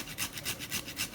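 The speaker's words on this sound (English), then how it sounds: "I'm going to grate the nutmeg inside the porridge, just like that." Whole nutmeg rasped across a grater over peanut porridge, about five quick rhythmic scraping strokes, close and fairly soft, with no voices.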